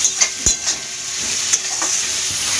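Onions fry in a pan over a high flame for a mushroom dish, giving a loud, continuous close-up sizzle broken by a few sharp scrapes and clacks of stirring.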